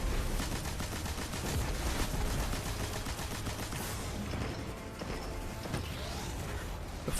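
Dense gunfire in the video game Destiny, rapid repeated automatic shots in a continuous loud barrage with mechanical clatter, no talk.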